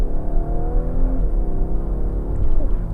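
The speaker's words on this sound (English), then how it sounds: "we're going to do another acceleration" A 2018 Audi A5 Coupe accelerates hard, its engine note rising steadily. A gear change briefly drops the pitch before it climbs again, loud and close, with no voices over it.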